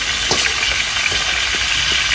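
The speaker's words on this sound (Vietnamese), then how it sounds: "Mình chiên sao vậy cho nó ra mỡ," Pieces of pork frying in a pan of oil to render out the fat, giving a loud, constant sizzle and crackle with occasional soft pops and stirring.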